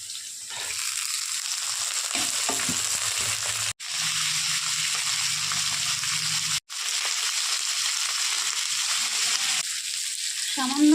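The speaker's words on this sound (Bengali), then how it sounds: "আলুটা একটু ভাজা ভাজা হয়ে গেলে দিয়ে দেবো হচ্ছে পেঁয়াজ কুলি" Potatoes sizzle steadily in a frying pan with a dense, even crackle that holds throughout, briefly cut by two short gaps, with a small stir of activity near the end as onion stalks go in.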